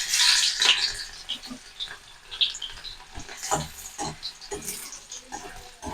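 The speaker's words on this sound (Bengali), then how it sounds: "তেল গরম হয়ে গেছে, তেলের মধ্যে দিয়ে দেবো চেরা কাঁচা লঙ্কা, আর দিয়ে দেবো 3-4 কোয়া রসুন" Green chilies and crushed garlic cloves hit hot oil in a pan, giving a bright, crackling sizzle that is strongest at the start and then keeps popping and spitting irregularly close by, with no talk.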